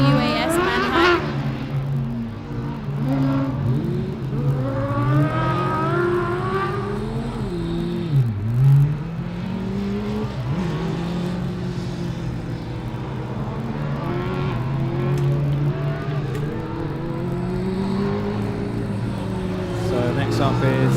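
A Formula Student race car on an autocross course at FSG 2012, its engine revving and swooping up and down through gear changes, passing near and then fading, with a commentator talking over it.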